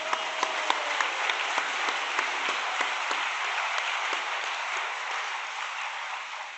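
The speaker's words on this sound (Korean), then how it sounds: "그분들을 위해서 특히 여기 수련회 직원들을 위해서 우리 박수 한번 좀 드리겠습니다" Retreat participants give the staff a steady round of applause, a continuous, moderately distant wash of many hands clapping that holds evenly throughout without any talk.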